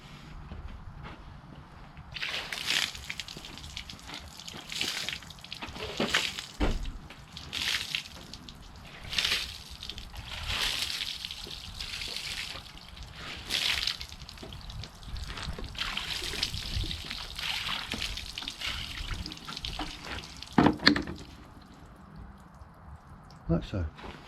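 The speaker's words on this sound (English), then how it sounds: "So I've got a bucket of softened water, because we have a water softener here" Softened water from a bucket is thrown over a KTM Super Duke GT motorcycle, with splashing, trickling and dripping runoff spread across the stretch. Occasional footsteps and louder knocks come through as well.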